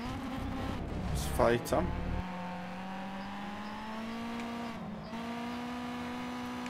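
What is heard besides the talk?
race car kickdown acceleration in the video game Need for Speed Shift 2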